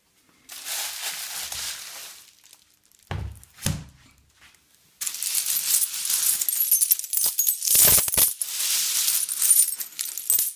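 Coins from a buried hoard, dug up in iron-infested ground during metal detecting, clink and clatter close by in scraping bursts and short pauses. No voices accompany them.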